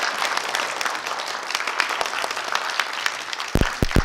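Audience applause at a film event as a North Korean human-rights film director is introduced, steady sustained clapping from a crowd with a few sharp close claps near the end.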